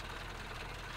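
A truck engine idles steadily in the Spintires Mudrunner off-road game, a constant low, rough rumble held close and even through a short moment with no talk.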